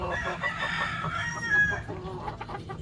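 Chickens in a coop cluck and squawk close by in a busy, continuous chorus, with a rooster's drawn-out crow mixed into the flock noise.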